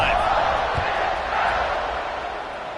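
Stadium crowd at an Ole Miss versus Michigan football game roaring steadily after a long touchdown run, a dense continuous wash of cheering voices with no single voice standing out.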